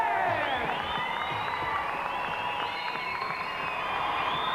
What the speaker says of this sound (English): let's have a big round of applause for everybody!